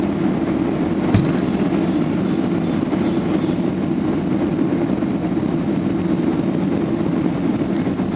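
A Qantas Boeing 767-336ER airliner turns final to land on runway 03 at Perth, a loud, steady cabin roar of engines and airflow with a couple of faint clicks, and no voices.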